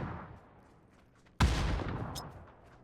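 Grenade explosion in the video game PUBG, a single sudden loud blast after a quiet stretch, its rumble trailing off over the next second, with no talking.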